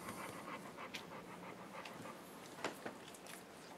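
A big, large-headed guard dog pants close by in steady, breathy huffs that run on throughout, with no one talking.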